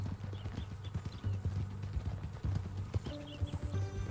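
Horse hooves clip-clopping steadily in the Red Dead Redemption 2 video game, a quiet rhythmic patter of hoofbeats with faint background ambience and a brief tone near the end.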